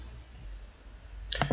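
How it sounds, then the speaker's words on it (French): A few quick computer mouse clicks sound near the end, short and close, after a stretch of quiet room tone. "je clique ici pour ajouter le package"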